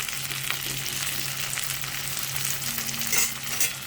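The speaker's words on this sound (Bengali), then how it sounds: "এখানে একটা মাঝারি সাইজের টমেটো দিয়ে দিয়েছি একটু ফালি করে। এইটাকে এখন এই একটু ভেজে নেব" A medium tomato, sliced, fries with browned onions in a pan, making a continuous close sizzle with stirring scrapes and no talking.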